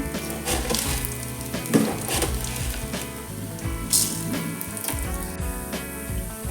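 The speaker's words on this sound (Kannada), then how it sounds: "ಫ್ರೈ ಮಾಡಬೇಕು ಎರಡು ಸ್ಪೂನ್ ಕೊತ್ತಂಬರಿ ಬೀಜ" Coriander seeds and dried chillies frying in a pan, a close, steady crackling sizzle with occasional stirring scrapes and clinks throughout, no talking.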